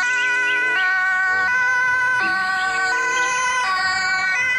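A toy ambulance gives a loud, close electronic siren, wailing in continuous stepped up-and-down tones.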